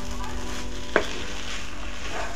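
Soft, steady sizzle of ghee in a pan of vegetable dalia pulao being stirred, with one brief scrape of the spoon near the middle, low and close with no talk.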